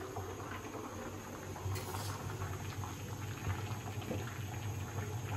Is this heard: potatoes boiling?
yes